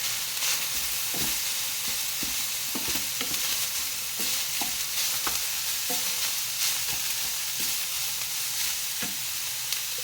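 Minced pork stir-fried in a pan with southern Thai red curry paste for a dish with pickled bamboo shoots: a steady, close sizzle with repeated scraping stirs of the spatula throughout.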